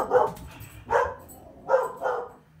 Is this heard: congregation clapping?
no